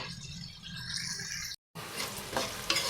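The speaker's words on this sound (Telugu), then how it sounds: "ఈ తాలింపు అందులో వేసేస్తాను ఉప్పుచారులు వేసేస్తాను" A hot tempering of spices in oil sizzles loudly as it is poured into a pot of Andhra-style rasam, with steady frying crackle, a brief gap, then a renewed burst of sizzling close by.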